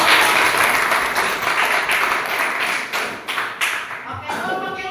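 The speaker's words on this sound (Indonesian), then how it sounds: "Ya, tepuk tangan." A classroom of primary school pupils claps, a dense burst of close hand claps that carries on steadily, then thins into scattered claps toward the end.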